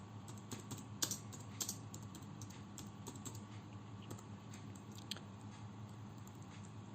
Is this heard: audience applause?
no